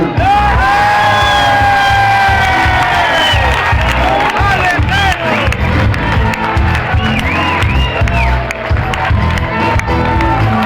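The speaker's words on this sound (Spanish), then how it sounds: "voy a pedir un fuerte aplauso para nuestro compañero Gelo" Concert crowd at Sala Río in Samil, Vigo, cheering, whooping and yelling loudly and continuously with clapping mixed in, long sustained shouts rising above the roar throughout.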